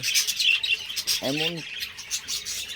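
Budgies in a crowded bird colony give one clear, close squawking call, set against a steady background of faint, high chattering and chirps from the rest of the flock.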